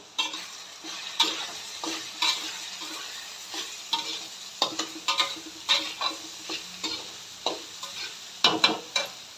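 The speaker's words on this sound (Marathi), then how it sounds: "त्यानंतर धना पावडर एक चमचा घालायची आणि छानपैकी असं परतून घ्यायचं" Coriander powder sautés in a pan for a home-style khichdi, a low sizzle under a steady run of spoon scrapes and taps against the metal, close and rhythmic, with no talk.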